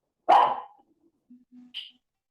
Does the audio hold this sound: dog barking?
yes